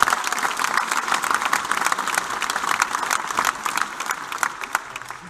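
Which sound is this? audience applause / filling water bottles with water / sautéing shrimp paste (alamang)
audience applause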